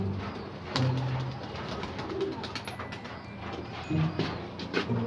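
Pigeons coo softly in a loft after a typhoon, with repeated low, throaty calls over a busy background of rustling, fluttering and faint chirps. The sound stays moderately quiet and close throughout.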